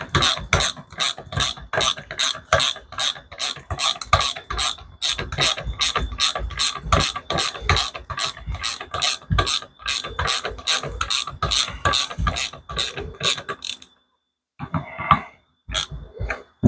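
A ratchet works a bolt on a Skyjacker lowering A-arm for a Chevrolet K1500, clicking in quick, steady back-and-forth bursts up close, then stopping with a few isolated clicks near the end.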